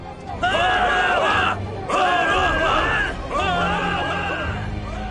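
A crowd of voices shouts together in a dramatized Bible reading of the Gospel trial scene, coming in three loud, chanting bursts with brief pauses between them.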